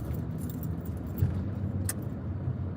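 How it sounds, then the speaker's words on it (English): Steady road traffic rumbles through a Chicago street, a continuous low engine and tire drone with faint rattling and one brief higher swish, no voices. "It is so much traffic."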